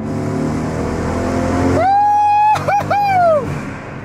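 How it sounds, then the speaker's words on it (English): Loud modified van engine droning at idle, then revving up in several sharp blips with a whining, rising pitch that falls away, close and dominant with no talk. "We a loud van out here."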